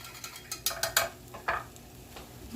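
Pineapple juice being stirred into a burger mixture, with a handful of sharp utensil clinks and scrapes against a bowl in an irregular rhythm, close and fairly quiet, no talking.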